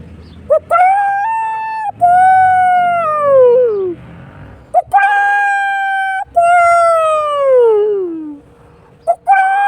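A man imitates a rooster crowing with his voice, giving two long, rising then falling calls with short breathy sounds between them, close and loud.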